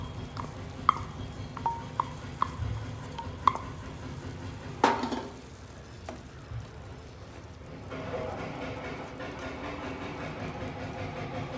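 Cooked rice scraped and stirred through a metal pan for tiranga pulav, a series of sharp spoon knocks on the pan followed by softer scraping and a low continuous sizzle.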